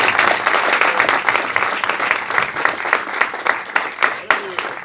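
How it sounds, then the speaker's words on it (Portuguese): A church congregation at a pastors' congress claps loudly and steadily to welcome the pastor, a dense, close burst of applause with voices mingling underneath. "Nós vamos receber o nosso querido irmão pastor Marcos, aplaudindo bem forte ao nome de Jesus."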